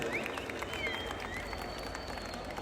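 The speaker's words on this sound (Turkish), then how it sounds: "güzel bir alkış alabilir miyiz?" Crowd applause rises at a car modification fair in Mersin as a host introduces a popular figure, steady dense clapping with a faint tonal whine over it, running throughout.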